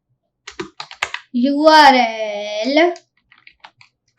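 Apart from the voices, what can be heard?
typing on a computer keyboard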